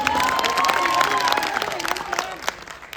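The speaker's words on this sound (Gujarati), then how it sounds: "હીરો માટે જોરદાર તાળી પાડો ભાઈ" An audience at a Gujarati film screening applauds and cheers for the hero, dense clapping mixed with shouts and voices that fades slightly toward the end.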